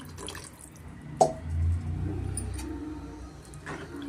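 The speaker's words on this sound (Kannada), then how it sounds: "ಈಗ ನಾನು ಇದಕ್ಕೆ ಒಂದು ಅರ್ಧ ಲೀಟ್ರ್ ಆಗಷ್ಟು ನೀರು ಸೇರಿಸ್ಕೊತಾ ಇದ್ದೀನಿ" About half a litre of water goes into a cooking pan with onions for an aloo sagu curry: a sharp splash, then a short gurgling pour and trickle, close and moderately loud.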